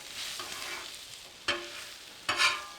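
Peppers and onions with fajita seasoning sizzle on a Blackstone griddle, a steady hiss broken by two sharp scraping stirs of a spatula, close and without talk.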